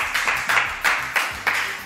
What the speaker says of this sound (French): On applaudit Véronique.